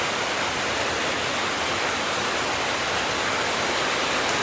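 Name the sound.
heavy rain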